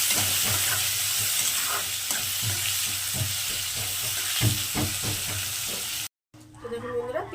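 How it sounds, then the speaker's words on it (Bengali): Chopped onions for chicken kalia fry until red in hot oil, giving a steady loud sizzle broken by repeated stirring scrapes and clatters. The sizzle cuts off briefly near the end, and a quieter, cleaner sizzle follows. "পেঁয়াজগুলো এখন লাল লাল করে আমি ভেজে নেবো প্রথমে।"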